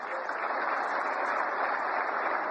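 An audience at the 71st National Film Awards ceremony applauds a child actor, a steady, even wash of clapping that holds at one level throughout without voices.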